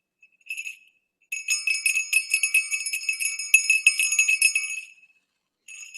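A small handheld bell rings out in bright, tinkling bursts: a brief jingle, then a sustained stretch of steady shaking lasting several seconds, and a final short ring after a pause, close and clear with no talking.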